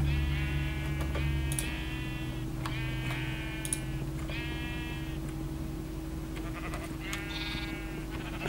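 Sheep in the game Minecraft bleat repeatedly, several short wavering cries in a row, clear and close over a low steady hum.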